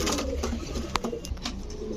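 Restless pigeons coo in low, soft bursts amid a busy background of rustling and fluttering, with a brief sharper call near the middle.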